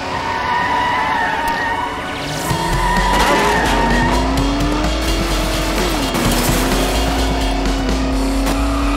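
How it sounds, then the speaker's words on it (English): Roaring spaceship engines maxing out in a VR space game, a loud sustained drone with rising and shifting pitch that swells after two seconds and holds steady to the end. "The engines are maxing out."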